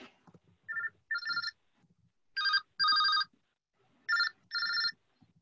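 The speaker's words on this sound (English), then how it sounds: "I have to take a phone call for a second." A telephone rings during a water and sewer commissioners' meeting, with repeated bursts of an electronic two-tone trill separated by short pauses, close and clear over faint background sounds.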